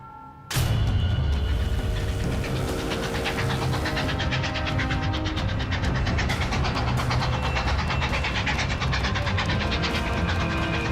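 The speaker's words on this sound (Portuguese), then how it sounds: "Um trem de carga corre em direção ao sul" A Civil War-era freight train runs southward, a loud, continuous rolling rumble with steady rail clatter and hiss that holds unbroken throughout, with no voices.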